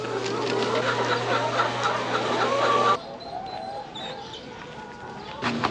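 Hens cluck and murmur over a steady background drone that cuts out partway, leaving softer clucks and faint rustling.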